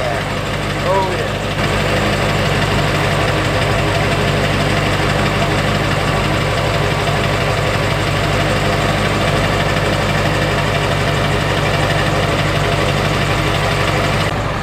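A 1999 Ford F250 7.3 diesel idling with the catalytic converter deleted, giving a loud, continuous, gravelly rumble close by that holds steady throughout.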